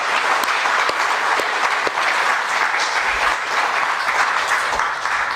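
Large crowd at a formal ceremony presenting the original 1734 Murillo Velarde map gives loud, sustained applause, a thick continuous wash of clapping with no voices.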